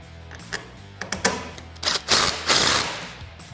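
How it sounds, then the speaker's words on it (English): Ratcheting and clicking of a 12mm wrench and 13mm socket as windshield mounting hardware is tightened on a Polaris RZR Trail S 900, heard as sharp close metallic bursts that build in strength toward a longer loud run near the end. "take a 12mm wrench and then a 13mm socket. Get it fully tightened"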